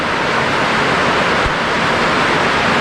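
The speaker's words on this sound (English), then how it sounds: "And here's the shower." Water hisses steadily from a shower in a jungle lodge bathroom in Bukit Lawang, a dense, even rush with no pauses, close and fairly loud.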